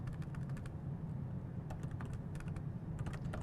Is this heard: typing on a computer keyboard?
yes